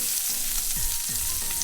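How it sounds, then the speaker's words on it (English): A beef tenderloin steak sears in a smoking-hot cast iron pan with a loud, dense, continuous sizzle and hiss heard up close and alone. "I want to sear this on each side for about 2 minutes"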